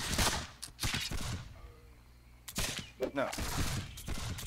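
Bursts of gunfire in a Caribbean sailing game, several loud, close volleys of cracks and rumbling shots broken by short pauses, with voices shouting among them.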